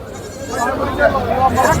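A goat bleats a few times amid a noisy village livestock market at Kalampur, with people talking loudly all around.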